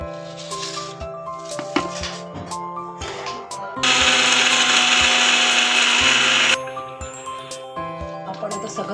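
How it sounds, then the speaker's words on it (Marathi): Mixer grinder whirring through deep-fried bitter gourd for chutney, with a loud high-pitched burst of grinding in the middle framed by quieter motor hum and clattering before and after. "प्रथम आपण कारलं मिक्सरला लावून घेऊ."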